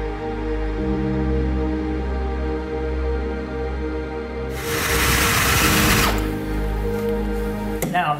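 A hole saw on a drill whirs with a steady motor tone during bathroom fitting. It then bites into material with a loud, rough, grinding burst before easing off, and ends with a short clunk.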